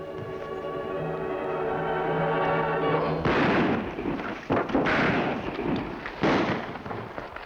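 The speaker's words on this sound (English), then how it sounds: "Gunfire, Kemosabe" Several sharp gunshots crack out one after another in a Lone Ranger radio drama, loud and close, following a sustained tonal stretch with no talking.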